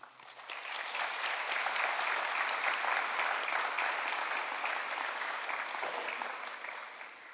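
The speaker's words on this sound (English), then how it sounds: "a round of applause." An audience at a university college of pharmacy white coat ceremony claps in sustained, even applause from a large crowd, swelling quickly and fading toward the end.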